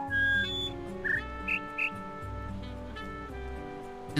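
Bird calls in a sound puzzle from the video game The Witness: three short, high whistled chirps spaced about a third of a second apart, plus an earlier pair of thin notes, all faint over a soft, steady tonal backdrop.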